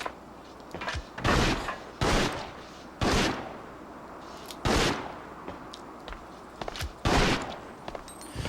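Loud single gunshots from Resident Evil Outbreak File 2 fire about once a second in an irregular rhythm, each a sharp broadband crack with a short tail over a quiet game background, with no voices.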